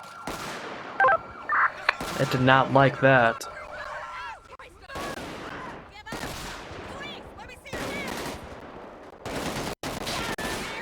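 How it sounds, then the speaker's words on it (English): Bursts of rapid automatic gunfire from a GTA 5 LSPDFR police patrol game crackle in short volleys between stretches of someone talking, with uneven loud and quieter moments. "Automatic gunfire, automatic gunfire."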